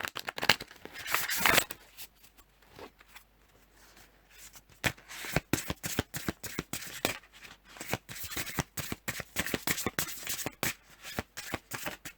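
A deck of reading cards being shuffled by hand in repeated quick riffling bursts, crisp and close, with a few pauses between rounds and no talking.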